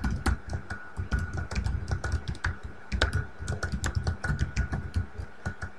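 Someone types a short message on a computer keyboard, a rapid, uneven run of close, crisp key clicks that continues for several seconds with no talking.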